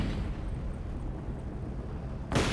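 A mortar fires in Company of Heroes 2, and after a steady low rumble of battlefield ambience a sudden loud, broadband blast lands at the very end.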